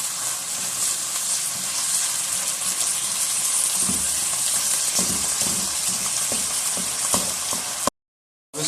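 Chicken and vegetable spring roll filling frying in a pan over a high flame, a loud continuous sizzle with occasional stirring clatters, ending in a brief silence.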